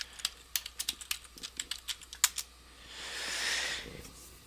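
Password being typed on a computer keyboard: a quick run of crisp, close key clicks in an irregular rhythm, then a soft swell of broadband rustle near the end.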